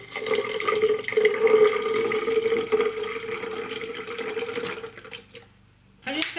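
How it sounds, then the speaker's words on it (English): Orange juice pours steadily from a container into a plastic measuring jug, a continuous liquid gurgle lasting several seconds before trailing off into near silence, then a brief clatter at the end. "So I'm going to pour the orange juice up to 200"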